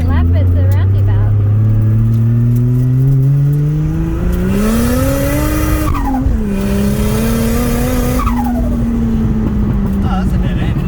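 A car circles a roundabout with its engine note loud and close, rising and falling steadily under ongoing conversation inside the cabin.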